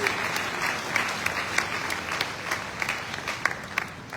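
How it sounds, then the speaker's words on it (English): An audience at a Lagos indigenous people's summit gives a sustained round of applause, dense clapping with scattered louder claps, no voices over it. "Please help me give him additional round of applause."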